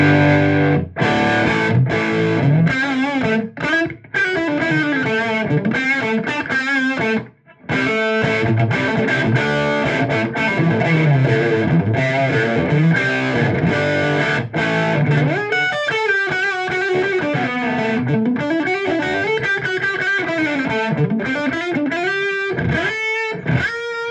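Electric guitar played through a vintage 1952/53 Steanes Sound Systems PA head converted for guitar, master volume cranked and phase inverter pushed, giving thick distorted chords and riffs that ring continuously with brief pauses between phrases.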